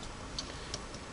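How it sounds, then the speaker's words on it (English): Two faint, sharp metallic ticks about a third of a second apart as a metal ring hits the back of a Singer 301A sewing machine casting, over a steady low mechanical hum. "metal ring right there hitting the back of the casting"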